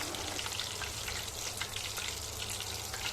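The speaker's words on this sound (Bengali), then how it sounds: "চুলোর জালটা মিডিয়ামে রেখে চিকেনটা খুব ভালো করে ভেজে নিতে হবে।" Chicken frying in oil over a medium flame, giving a steady, dense crackling sizzle with scattered pops, close and even in loudness throughout, with no voices.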